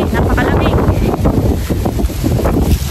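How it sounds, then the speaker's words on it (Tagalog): Strong, cold wind buffeting a microphone outdoors, a loud continuous rumble with gusty swells throughout, while a voice talks faintly underneath. "Gawa nang dito po ay sobrang lakas po ng hangin."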